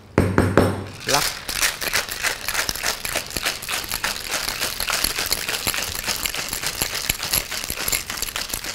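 A cocktail shaker full of ice and oolong tea is shaken hard, giving a fast, continuous rattle of ice against the shaker for about seven seconds after a brief voice at the start.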